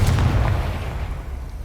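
A Confringo fire spell bursts in Hogwarts Legacy, a heavy booming blast with a deep rumbling low end that decays over about a second and a half, loud and close.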